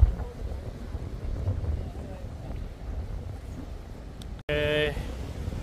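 Strong coastal wind buffets the microphone at Cape Noshappu near Wakkanai, Hokkaido, a steady low rumbling roar that runs throughout, with a brief cut near the end followed by a short tonal sound over the continuing gusts.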